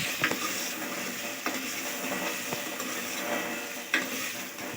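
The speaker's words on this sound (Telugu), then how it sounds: "చూడండి మంచిగా వేగుతున్నాయి కదా." Ivy gourd (dondakaya) masala curry fries in oil with a steady close sizzle, broken by occasional scrapes and clinks of stirring in the pan.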